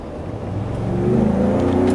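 Exhaust of a 2017 Ford Raptor pickup rising under acceleration, a steady low engine drone that builds in pitch and loudness over two seconds, heard up close with no talking.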